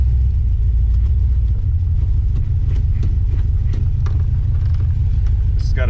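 A 1971 Dodge Demon with a 318 V8 cruising, its steady low engine rumble and road noise filling the cabin continuously, with faint clicks and rattles on top.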